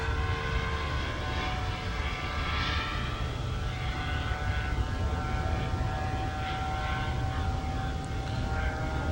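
A radio-controlled model airplane flies overhead at a training field, its engine giving a steady, continuous drone that holds at a fairly even level with no speech.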